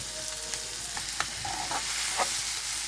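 Sliced onion sautéing in a pan for a brinjal mezhukkupuratti, a short close sizzle with a few scraping stirs of a spoon, no speech.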